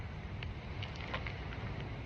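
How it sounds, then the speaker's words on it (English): Steady wind buffets the microphone outdoors, a constant low rumbling roar with no voices, loud and unbroken throughout. "it's just super windy today"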